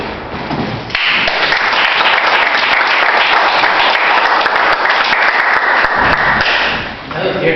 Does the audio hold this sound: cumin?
no